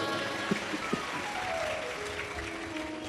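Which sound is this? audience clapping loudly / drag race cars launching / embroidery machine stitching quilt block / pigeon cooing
audience clapping loudly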